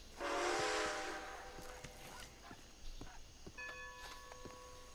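A train in the video game Red Dead Redemption 2 lets out a whistle blast, followed by clanking, footstep-like knocks and a second, steadier tonal whistle near the end, all fairly quiet.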